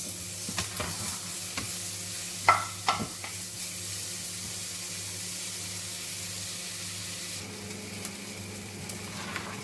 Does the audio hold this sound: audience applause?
no